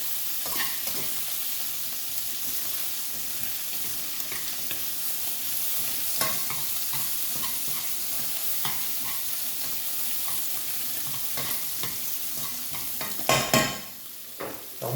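Bacon lardons fry and sizzle in a pan for carbonara, a steady crackling hiss with occasional stirring scrapes and a louder clatter near the end.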